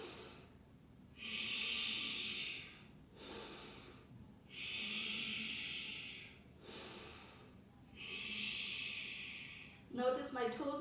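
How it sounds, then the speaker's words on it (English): Three slow, deep belly breaths taken in frog yoga pose, each a soft airy inhale and exhale in an even rhythm, close and quiet, followed by a brief rustle at the end. "Let's take 3 breaths."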